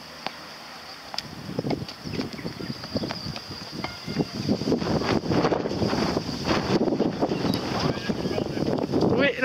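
Wind gusts buffet the microphone in low, rumbling surges that grow stronger toward the end, with faint voices beneath, outdoors on a tennis court.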